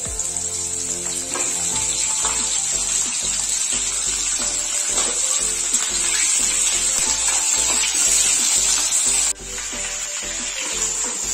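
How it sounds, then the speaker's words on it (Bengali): Raw green mango pieces fry in hot oil in a pan while being cooked for a sweet pickle. A steady, close sizzle with regular scraping and stirring strokes runs throughout, and the sound dips briefly near the end. "আমটা ভেজে নিয়েছি, লাল হয়ে গেছে।"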